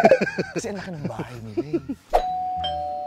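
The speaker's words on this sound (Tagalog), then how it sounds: "Ito, may doorbell." A house doorbell rings once with a clear electronic chime after a stretch of conversational talk and light laughter, the tone ringing on steadily and loud to the end.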